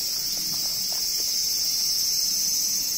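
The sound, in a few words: cicadas chirping loudly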